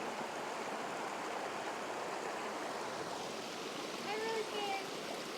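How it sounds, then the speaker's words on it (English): A small creek flows beside a hiking trail near Savage Falls, a steady, even rush of moving water heard at moderate distance throughout. "That little creek right there is my favorite."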